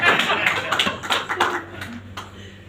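Audience at a principals' conference clapping after a recited poem, a brief burst of hand claps that thins out and fades, with some light chuckling mixed in.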